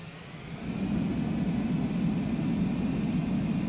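A regional jet in Microsoft Flight Simulator rolls backward under its own engine power, giving a steady, loud turbine roar that swells after the first half second and then holds even, with no voices.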